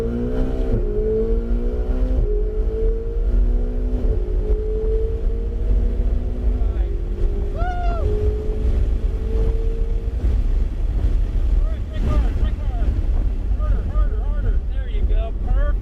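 Ferrari 488 GTB, a 650 hp car, accelerating hard on a race track, its engine note climbing through gears with upshift drops, loud with wind buffeting, while a driving coach talks over it.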